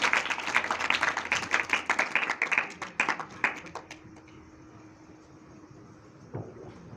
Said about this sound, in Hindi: तालियां बजाएं जोर से